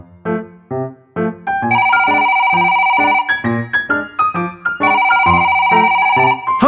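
A telephone rings unanswered, its repeated electronic tone pattern sounding loud and close in an alternating musical ringtone sequence, with no voices.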